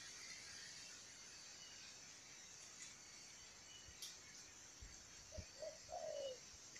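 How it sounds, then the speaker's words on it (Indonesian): A spotted dove coos faintly and far off in an outdoor hunting spot, giving a few soft, low coos near the end over a steady hiss of insects. "Kelihatannya ada tekukur teman-teman, tapi belum nampak di mana ada tekukur teman-teman."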